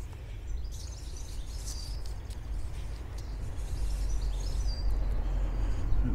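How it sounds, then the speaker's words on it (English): Birds chirping outdoors in Norwich, faint scattered tweets high over a steady low rumble of distant traffic and wind, with no talk. "Beautiful day. Hear the birds."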